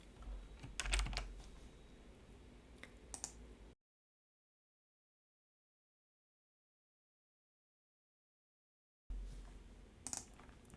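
Rapid, light clicks of typing on a computer keyboard while a comment is written, close and fairly quiet, in two short bursts separated by a stretch of total silence.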